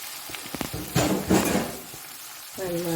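Green chillies and sliced okra frying in a pan are stirred with a fork, giving a few sharp scrapes over a steady sizzle and a brief louder burst, with a voice-like tone near the end.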